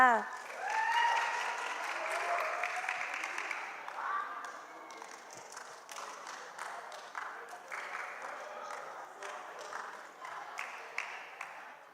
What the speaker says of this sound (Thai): ขอเสียงปรบมือให้ห้องพี่นักศึกษาหน่อยค่ะ